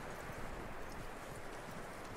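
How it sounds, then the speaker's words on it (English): Horse hooves clip-clopping steadily in Red Dead Redemption 2, a dense continuous clatter of hoofbeats at moderate level, close by, with no talk over it. "That looks like a decent horse."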